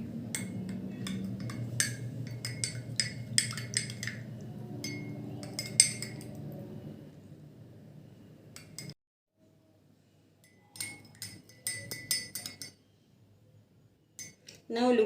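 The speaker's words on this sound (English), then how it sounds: "Now let us add this rice flour to this glass of water. Now stir it well." A spoon stirs rice flour into a glass of water, producing light clinks and taps against the glass in irregular bursts, with a quiet pause midway before the clinking resumes.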